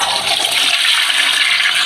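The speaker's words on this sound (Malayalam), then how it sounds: "ഫ്ലഷ് അടിക്കണം." A toilet flushes with a loud, steady rush of water that fills the whole moment, close and uninterrupted, with no voices.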